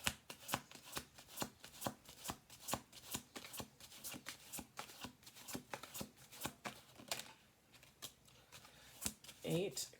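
Tarot cards are shuffled by hand up close in a quick series of crisp riffling and slapping bursts that repeat steadily for most of the stretch, followed by a brief voice near the end.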